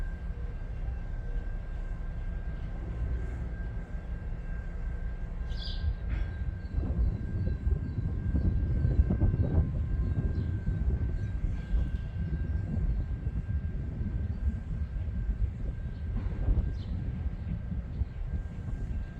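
A train on a shortline railroad in Durand rumbles steadily in the distance, a low continuous drone that swells slightly mid-way, with a faint high tone and an occasional bird.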